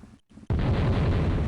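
In the New Year's themed Christmas video game All Aboard for Santa, a sudden loud blast breaks a short near-silence and then rolls on as a heavy, steady rumble.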